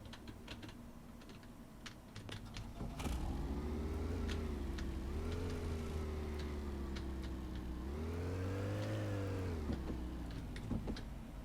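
A used 160-horsepower car with no brakes in Car Dealer Simulator runs with a steady, droning engine hum, rising and falling in pitch as it revs, with faint clicking on top.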